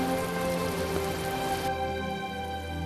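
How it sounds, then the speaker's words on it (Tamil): Steady rain falls outdoors in a continuous wash of noise, with a soft background tone shifting partway through; no voices are heard. "எப்படியோ மழை தானே வருது."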